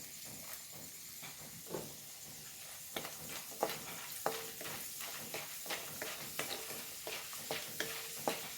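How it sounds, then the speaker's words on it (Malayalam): Chana dal frying in a pan for sambar, faint sizzling under scattered light scraping and tapping from stirring, quiet and close. "ഞാൻ കടലപ്പരിപ്പാണ് ഇട്ട് കൊടുക്കുന്നത് വറുക്കാൻ"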